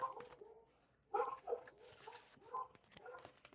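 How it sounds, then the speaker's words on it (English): A small dog indoors gives a few faint, scattered barks and whimpers in a quiet room, distant and brief. "I apologize if you can hear my dog barking."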